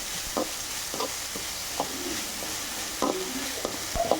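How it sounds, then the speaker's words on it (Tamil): Onions and grated mango sautéing in a pan for mango rice, with soft continuous sizzling broken by repeated scraping and stirring strokes of a spatula, close and fairly quiet, no voices. "வெறும் வெங்காயம் தான் போட்டு வதக்கணும்"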